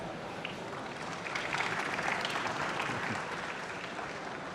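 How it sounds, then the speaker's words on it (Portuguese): Audience at a FEBRABAN TECH banking conference breaks into a steady round of clapping that swells slightly in the middle, heard at a moderate distance in a large hall. "Júlia De Luca, Tech IB do Itaú BBA, uma salva de palmas, por favor."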